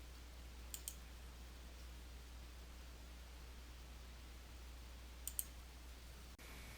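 A computer mouse button clicks in two short, crisp pairs, one near the start and one later, each faint and isolated against a steady low hum with no talking.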